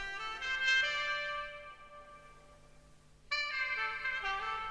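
A horn sample from Output, run through Valhalla reverb, plays two quiet phrases of sustained brassy notes, the first fading into a long reverberant tail before the second enters, with no voices.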